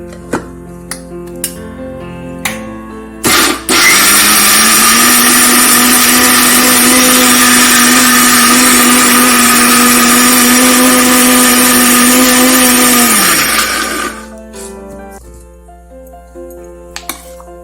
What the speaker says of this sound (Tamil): வெங்காயம் தக்காளி எல்லாம் நான் ஒரு மிக்ஸி ஜார்ல மாத்தி அரைச்சிக்க போறேன்